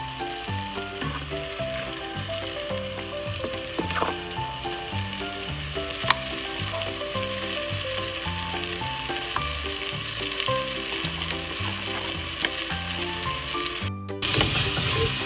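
Ground masala paste sautés in oil for a cauliflower tomato kurma, with a steady close sizzle and occasional stirring scrapes. A rhythmic, tonal hum runs underneath, and a brief dropout comes near the end.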